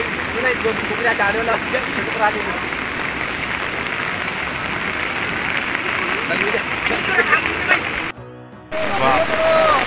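Heavy rain pattering steadily on an umbrella during a flood, a dense hiss close by with people talking underneath and a brief dropout near the end.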